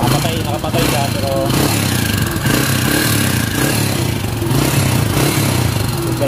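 A Kawasaki Barako 175 motorcycle engine running nearby, a steady rough idle with clattering mechanical texture and slight rises in pitch, while someone talks over it.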